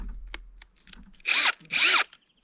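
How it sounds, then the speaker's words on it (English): Two short bursts from an 18V cordless battery drill, each running about a quarter second, loud and close, with faint clicks and handling noise in the pauses. "You have your normal drills."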